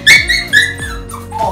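A dog at the groomer gives a quick series of high, close whimpers and yelps, with a few short barking bursts and no talking.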